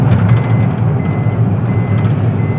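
A loaded truck reverses into a BP petrol pump forecourt in Sinnar, its reversing alarm sounding over a steady, loud low engine rumble that runs throughout without pause.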